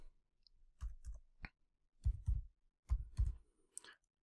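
Typing on a computer keyboard, a handful of close, crisp key clicks arriving in small clusters with brief pauses between them, fairly quiet and with no talk.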